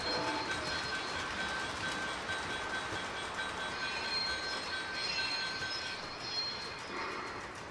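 Freight cars on a model train layout squeal steadily, with a continuous high metallic whine over the rolling rumble of wheels, loud and close throughout.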